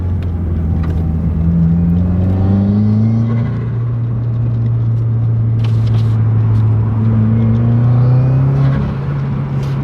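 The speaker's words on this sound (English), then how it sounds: "Let's get some more turbo flutter here." A 2015-or-later Subaru WRX turbocharged engine being revved, with turbo flutter. Loud and close, a steady droning roar whose pitch climbs and falls across repeated revs, with no talking.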